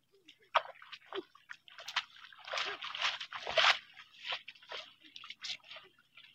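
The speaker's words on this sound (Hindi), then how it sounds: "और ये ऊँट पानी पी रही है।" A camel drinks water, giving wet sloshing, slurping and splashing sounds in irregular bursts, close by and fairly faint, with no voices heard.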